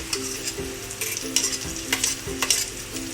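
Garlic and green chilli sizzle steadily in a hot pan while a spoon scrapes and stirs with a few soft clinks, no voices.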